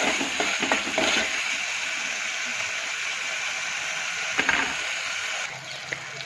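Tomatoes frying in roasted masala with drumsticks for dal, a close steady sizzle with a few spoon knocks and stirring scrapes, moderately quiet, with no voice.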